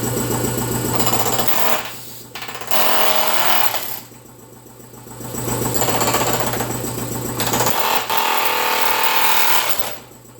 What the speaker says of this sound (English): So I'll go ahead now and get all that drilled out.